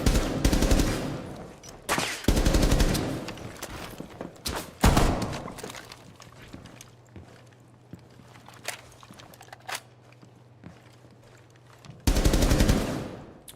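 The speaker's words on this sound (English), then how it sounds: "The Thorn shotgun is actually crazy." Thorn shotgun blasts in Rainbow Six, loud clustered bursts at the start and again at the end, separated by a quieter stretch with a steady low hum and scattered thuds.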